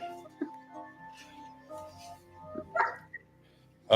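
Dog barks in short bursts within a movie being watched live, with people talking over it; a few sharp yips stand out, and the loudest comes right at the end.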